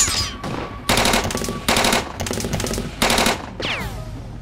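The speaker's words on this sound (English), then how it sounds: "And the firefight began." Gunfire from a firefight in the woods: loud, repeated bursts of rapid automatic shots in quick succession, dense and close, with a whistling ricochet-like sweep near the end and no voices.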